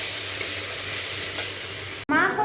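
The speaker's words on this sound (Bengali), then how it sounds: "এরপর আলু ভাজা।" Potatoes frying in a pan give a steady, close broadband sizzle with faint stirring scrapes, cut off abruptly near the end by a short burst of a different, louder sound.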